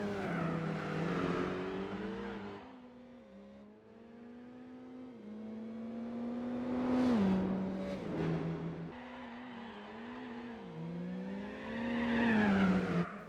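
Honda City Turbo II race car in Gran Turismo 4, the engine note rising and falling through gear changes with nitrous on the straight, alongside tire squeals and a steady revving whine.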